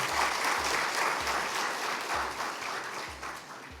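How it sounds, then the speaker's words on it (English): Round of applause from a gathered audience at a formal event, steady moderate clapping throughout, with a faint repeating low thump underneath. "let's give them a round of applause"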